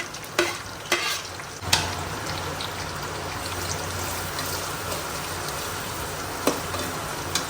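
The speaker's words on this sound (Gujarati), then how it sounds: "એના પછી નાખીશું આપણે ડુંગળી આવી રીતે ઉભી સ્લાઇસ જ કરવાની" Sliced onions and ginger sizzle steadily in a pan, with a few sharp spatula taps and stirring scrapes against the metal and no one speaking.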